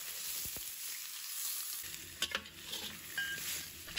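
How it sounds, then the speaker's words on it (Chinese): Pork trotters stir-fried in a wok with garlic, scallion, peanuts and mushrooms give a soft, steady sizzle, broken by a few sharp scraping clicks of the spatula. "把大蒜、大葱放入锅中，花生和香菇也放入来，把它们先炒香"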